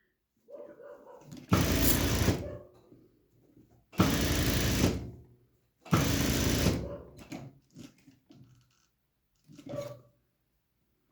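Sewing machine stitching a folded one-centimetre hem on overalls, running in three loud, steady bursts of about two seconds each, separated by quiet pauses with handling noise and a short final burst.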